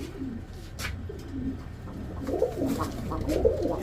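A Black Gold Archangel pigeon chick coos in soft, repeated low calls, close by, over a steady low background rumble.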